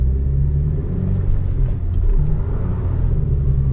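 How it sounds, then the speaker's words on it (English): The engine of a Honda Civic Type R FK2 runs at full throttle in third gear on an icy road at minus 12 degrees, giving a loud, continuous, deep rumbling roar heard from close by, with no talk. "Third gear, full throttle, we're not moving anywhere."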